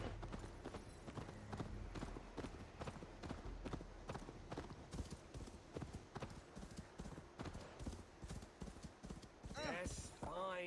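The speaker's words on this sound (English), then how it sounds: "First, I gotta get on this horse." Rhythmic clip-clop of horse hooves in a video game, loud and close, steady trotting beats continuing throughout with a brief burst of other noise near the end.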